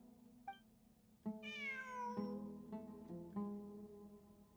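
A cat meows in a video game event story, a single drawn-out, rising-then-falling meow heard fairly clearly over soft game music and background tones.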